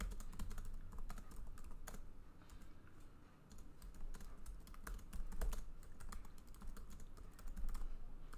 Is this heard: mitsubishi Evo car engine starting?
no